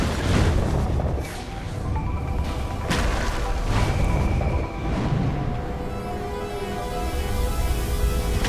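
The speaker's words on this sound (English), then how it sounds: "That bridge explosion totally freaks me out." A bridge blowing up in the video game Saints Row IV, heavy rumbling booms and crashing debris rolling on continuously with surges and dips, loud and close.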